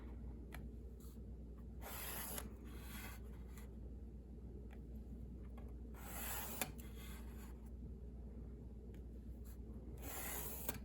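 A pencil draws straight lines across sketchbook paper to connect tick marks, making several faint scratchy strokes of a second or so each, spaced apart by quiet pauses and light tapping.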